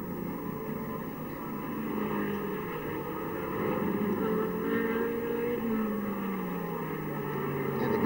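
A 1968 sports racing car on a demanding circuit, heard from a distance as a droning engine note that rises and falls while it accelerates and brakes, fairly faint against background noise.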